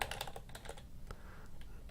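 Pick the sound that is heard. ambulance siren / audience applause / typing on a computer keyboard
typing on a computer keyboard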